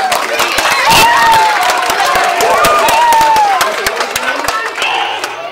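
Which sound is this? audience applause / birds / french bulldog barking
audience applause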